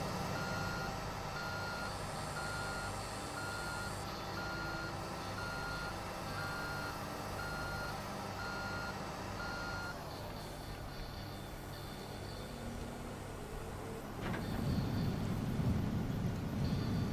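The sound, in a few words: truck reversing beeps in video game Construction Simulator 2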